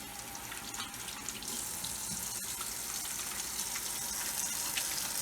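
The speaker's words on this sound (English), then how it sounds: "It's really important to wash our hands these days." Water runs steadily from a tap into a sink while hands are washed beneath it, a continuous close hiss and splash that grows slightly louder partway through, with no talking.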